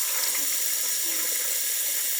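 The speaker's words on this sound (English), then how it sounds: "Wash the tray thingy under a strong stream of water" Strong stream of tap water running over a dishwasher's collecting tray and mesh, a steady close hiss and splash that cuts off abruptly at the end.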